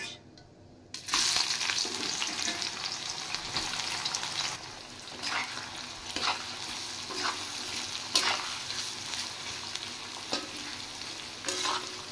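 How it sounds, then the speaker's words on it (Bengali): Chopped onions with four bay leaves hitting hot oil, a sudden sizzle after a quiet start, then steady close frying with intermittent stirring scrapes. "পেঁয়াজগুলো হালকা ফ্রাই করে নেব।"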